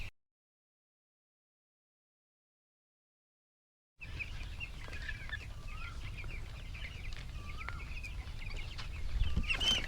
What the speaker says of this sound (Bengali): বারোতম দিনের পাখিগুলো আপনারা দেখতে পাচ্ছেন।